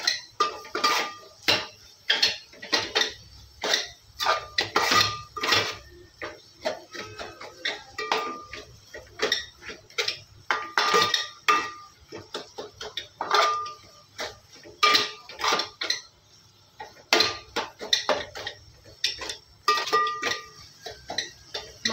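A spatula or spoon clinks and scrapes rhythmically against a pan while spices roast in oil for a dhaba-style egg masala, quick repeated metallic taps close by with a faint sizzle beneath.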